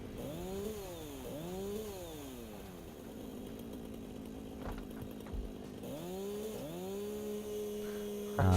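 A chainsaw in the game Satisfactory revs up and down repeatedly, rising and falling engine whines with an idling buzz between, moderately loud with no talk.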